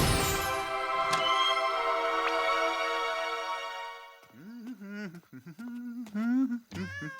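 A kitten's meows, several short rising-and-falling cries near the end, follow a bright sparkly magical chime; a cartoon soundtrack with no talk over the meows.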